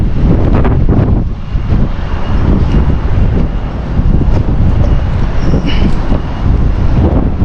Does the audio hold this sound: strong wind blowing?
yes